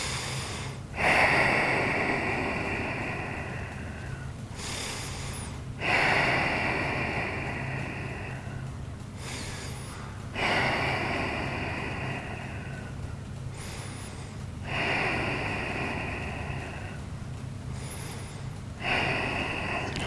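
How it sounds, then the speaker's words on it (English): Slow, deep breaths during a yoga hip stretch, with long, steady inhales and exhales repeating about every four to five seconds, close and clear with no talking. "Take a few breaths here."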